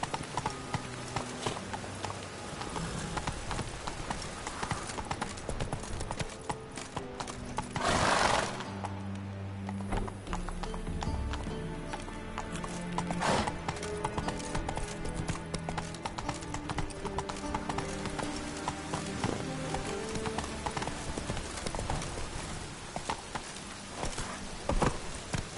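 Horse hoofbeats from the Witcher 3 video game clatter in a steady gallop throughout, mixed with a whinny, game music and ambient effects, with a brief loud burst near the middle.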